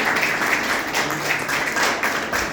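Audience at a building inauguration gathering claps in a dense, steady burst of applause, moderately loud and sustained without a break.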